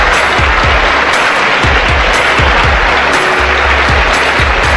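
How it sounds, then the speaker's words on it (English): A beauty pageant audience at the Miss Universe 1988 competition cheers and applauds, a loud, continuous roar of clapping with a steady low thump recurring throughout. "I think your cheering section rivals Mexico's."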